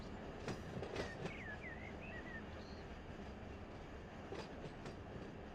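Loaded freight train rolling steadily in the Run 8 train simulator game, with a constant rumble, occasional clanks and thin wheel squeals over it.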